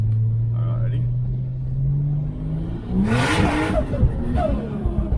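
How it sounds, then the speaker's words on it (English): A tuned Ford Falcon F6 with an external wastegate idles, then accelerates hard in a short burst, engine rising sharply with wastegate flutter and hiss before backing off; someone talks over the early idle. "give it a little bit of a squirt here for you, so you can hear the external gate"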